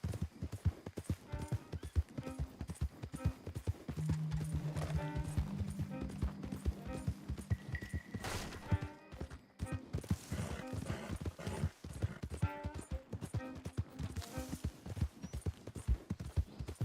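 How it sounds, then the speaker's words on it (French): Horse hooves clip-clop steadily in the video game Red Dead Redemption 2, a rhythmic, moderately loud trot that runs throughout, mixed with game music and effects, with a voice speaking briefly over it. "il est trop bizarre le gameplay au cheval"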